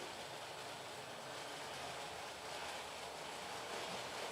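A small European model train engine rolls past on its layout track, producing a steady whirring rumble that swells slightly toward the end as it nears, with no talk over it.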